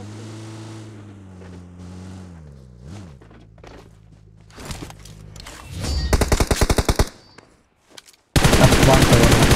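In a mobile shooter video game, a rapid burst of automatic gunfire crackles, then a loud sustained volley follows, after tonal game sounds and a few scattered shots.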